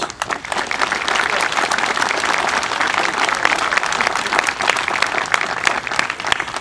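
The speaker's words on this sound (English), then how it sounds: "Let's show them a round of applause." A large crowd at a Veterans Day ceremony applauds steadily and warmly, the clapping sustained and even for several seconds.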